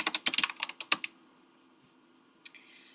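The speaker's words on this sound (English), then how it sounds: "He can hear my typing." A quick burst of keyboard typing, about a dozen crisp keystrokes in the first second, then near silence with one more soft click later.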